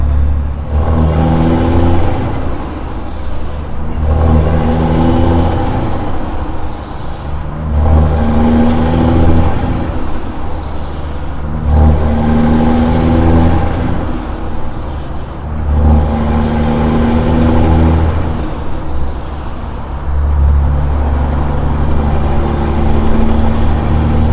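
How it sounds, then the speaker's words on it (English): Truck engine driving on the road, a loud steady diesel drone with rhythmic rising whines every few seconds as it runs through gears, close and continuous throughout with no talk. "About to go back and park the truck."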